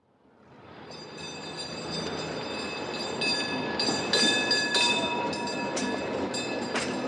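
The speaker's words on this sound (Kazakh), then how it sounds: "Бұл трамвай." A tram rolling along its rails, its rumble swelling from quiet to a steady loud roar with metallic squealing and ringing tones, heard alone without speech.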